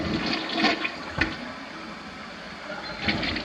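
A toilet in a 1990s North Texas house flushes with a steady rush of swirling water, close and fairly loud, with a few brief knocks mixed in.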